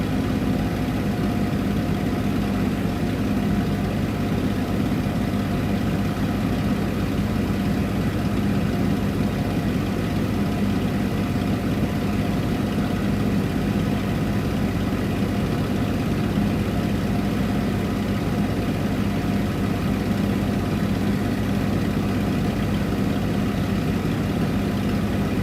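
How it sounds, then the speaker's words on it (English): A light aircraft engine drones steadily and evenly throughout, a constant loud hum with no change in pitch and no voices. "I'll just reduce the engine power again."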